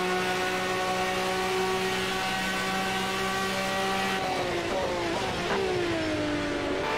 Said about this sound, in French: Ou gros freinage de la Lambo,